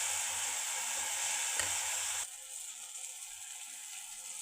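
Malpua batter frying in very hot oil, a steady loud crackling sizzle up close that drops abruptly to a quieter bubbling hiss partway through, with no talk.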